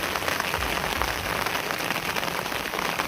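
Steady monsoon rain patters and hisses over a Gujarat village, a dense, even wash of drops falling on surfaces close by, with no voices.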